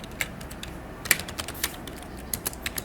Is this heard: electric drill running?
no